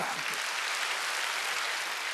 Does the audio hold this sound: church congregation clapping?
yes